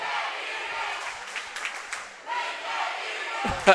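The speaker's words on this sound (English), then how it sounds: "Let's go Broncos rings out from one side. Let's go Eagles rings out from the other." Rival crowds at a Bethany men's basketball game chant back and forth in a gym, a dense roar of many voices with scattered claps and a sharp thump near the end.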